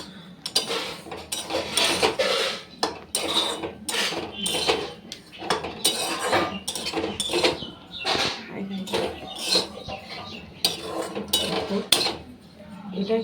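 Semolina frying over a high flame while a utensil scrapes and clinks against the pan in quick, irregular strokes, close and fairly loud throughout.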